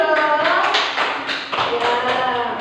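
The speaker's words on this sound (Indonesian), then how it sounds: "Tepuk tangan dong." Classroom applause for a student group, a burst of scattered hand clapping from several people that runs steadily for a couple of seconds, close and fairly loud.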